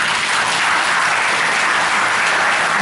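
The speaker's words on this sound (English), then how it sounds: "Let us acknowledge them with a big round of applause." Church congregation at a Catholic Mass delivers a big, dense round of applause, loud and continuous with no break throughout.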